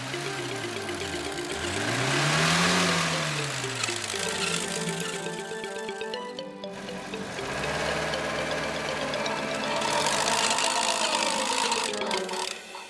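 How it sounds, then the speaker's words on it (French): Cartoon crane truck and bulldozer engines rumble steadily under a bright musical score, with rising and falling mechanical drones and whirring tones running throughout. "Le camion grue et le bulldozer se dépêchent d'aller aider le camion Ben."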